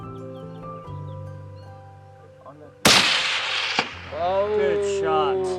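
A single sharp rifle shot fired at a ram during an African hunt, a loud broadband crack ringing out abruptly amid outdoor ambience, followed by a brief echo and then people talking.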